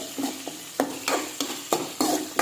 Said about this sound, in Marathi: व्यवस्थित भाजायचं आहे याच्यामध्ये मी मिरच्या पण मिक्स केलेल्या आहेत